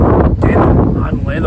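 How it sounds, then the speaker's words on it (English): Heavy wind buffets the microphone in low rumbling gusts while someone talks over it. "You have to excuse the wind. I mean the wind here"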